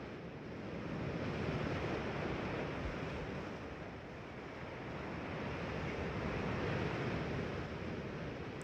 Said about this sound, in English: And water as far as the eye can see.